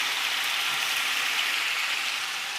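A steady, even sizzle comes from fish curry paste frying in a hot pan, a soft bright hiss that holds with no talking over it.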